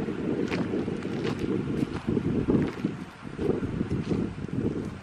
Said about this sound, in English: This darn wind.